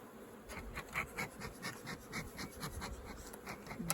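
Dense buzzing of many honeybees close by at a hive just split in two, a steady droning hum with wingbeat pulses rising and falling, no voices.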